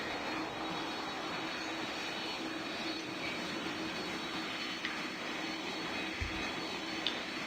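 Airplane taxiing to a gate in the Roblox game PTFS, a steady, even jet-engine drone throughout with a couple of faint clicks, with no speech.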